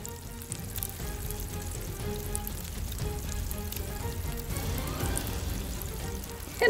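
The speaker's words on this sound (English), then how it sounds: "Wow, that is fizzy." A steady crackling fizz of bubbling liquid, close and fairly quiet, like carbonation hissing and popping continuously.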